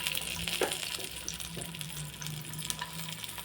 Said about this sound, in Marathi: पॅन तापत ठेवलं आहे, त्याच्यात तेल टाकून घेऊ. कांदा ठेवून घेऊ